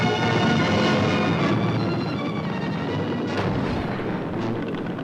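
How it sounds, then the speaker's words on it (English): Live rapid gunfire crackles during a military training exercise, an opposed landing at a commando training centre, forming a dense, loud continuous barrage of shots and booms with no pauses across the whole stretch. "Live bullets flew overhead."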